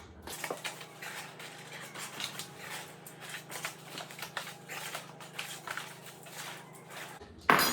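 Flour scooped into a measuring cup for bread makes close, soft scraping and rustling scoops in an uneven rhythm, with light taps of the cup, ending in a sharper knock.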